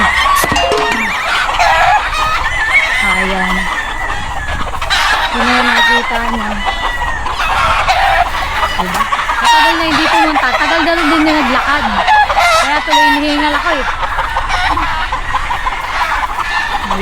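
A crowd of chickens clucks and squawks continuously up close, busy overlapping calls with occasional crowing, loud and restless throughout.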